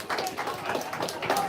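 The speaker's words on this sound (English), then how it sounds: "Another round of applause for all the Buildathon winners." Audience applause for Buildathon winners at a tech community event, a short burst of scattered, fairly close hand claps with some crowd murmur and voices.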